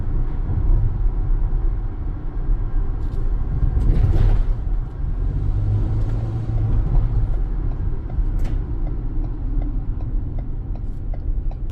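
A 2017 Ford Transit 250 van drives over bumpy roads, a steady low engine and road rumble heard from inside the cabin with faint rattles and a regular ticking, no talk.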